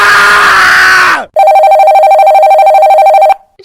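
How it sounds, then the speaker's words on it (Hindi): A loud telephone ringing sound effect in a Hindi audio story plays as a steady electronic ring for about two seconds, then stops, after a brief swell of another sound. "परेशान शिवानी राजीव को फोन करती है"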